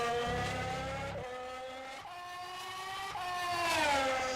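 F1 race cars lapping Imola in a racing sim, a continuous high-pitched engine whine that rises and drops through gear changes and braking, with no talking.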